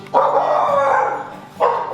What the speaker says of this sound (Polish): Pies się przestraszył.